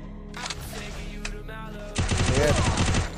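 Gunfire in the Free Fire battle royale game, with sharp shots early and then a dense, loud burst of rapid automatic fire toward the end; no one speaks over it.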